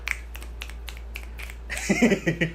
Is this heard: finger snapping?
yes